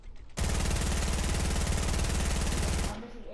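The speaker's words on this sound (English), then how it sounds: "Use the SMG." SMG fire in Fortnite: after a brief quiet lead-in, a rapid, dense burst of automatic shots rattles loudly and without pause for about two and a half seconds, then cuts off abruptly.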